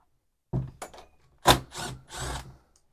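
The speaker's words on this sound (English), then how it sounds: "Let's transition to some power tools." Several short bursts of a power tool whirring and grinding on the metal screws of a Stihl MS 660 chainsaw being taken apart, separated by brief pauses, close and moderately loud.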